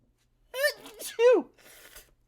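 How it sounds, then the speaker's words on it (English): A short, breathy sneeze with a voiced, pitched quality, followed by a faint exhale, heard close up. "That was a vampire sneeze."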